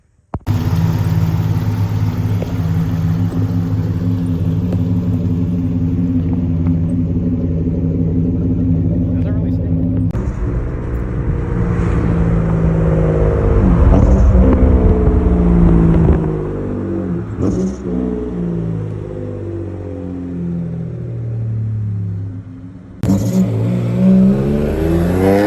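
A revived Mitsubishi 3000GT engine idling and revving, a loud close rumble that swells and falls through several throttle blips with brief cuts between takes, voices heard talking over it.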